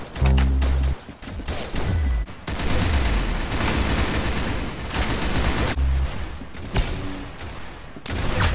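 Rapid gunfire bursts from the Arsenal shooter game crack loudly in clustered volleys with short pauses between them, close and dominant throughout.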